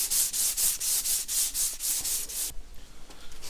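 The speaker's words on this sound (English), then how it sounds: "I'm going to use a sanding block for sure." A sanding block with 240-grit paper is rubbed by hand over a plastic car bumper in quick rhythmic back-and-forth strokes, close and steady, with a rough scratchy texture before the strokes slow and fade.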